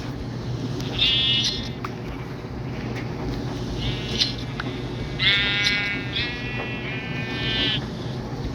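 Sheep in Minecraft bleat while being sheared, several short, nasal, wavering bleats arriving in scattered bursts over a low, steady background hum, some calls overlapping in quick succession near the end.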